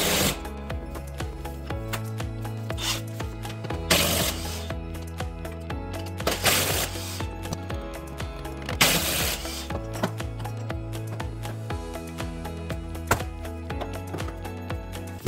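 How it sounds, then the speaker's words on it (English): A ratcheting 18 mm socket wrench works on the nuts of a 2002 BMW X5 E53 NV125 transfer case, producing steady rapid clicking in repeated runs with occasional metallic clanks, close and loud, without talk. "18 millimeter socket."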